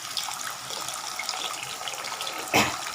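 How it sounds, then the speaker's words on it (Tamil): Water poured from a tap or jug into a cooking pot while making Nellore puliyodharai tamarind rice, a steady close splashing rush with a brief louder gush near the end. "கொஞ்சம் தண்ணி ஊற்றி நல்லா கொதி வரணுங்க"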